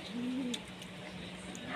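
A racing pigeon coos softly once in a low, rolling call, fairly close, over a steady background hiss.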